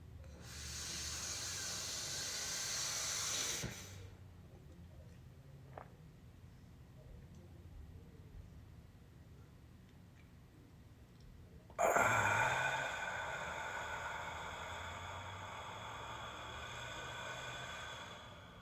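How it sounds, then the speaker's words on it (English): Deep, forceful breaths in a Soma breathing exercise: a long loud rushing exhale, then a near-silent breath hold with faint sounds, then a strong inhale that tapers into steady breathing. "that was one round of Soma breathing"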